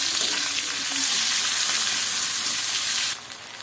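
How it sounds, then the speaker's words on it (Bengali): Ginger and garlic fry in a pan with a strong, close, continuous sizzle and light stirring. The sound drops off abruptly just before the end. "আদা রসুনটা ভেজে নিলাম।"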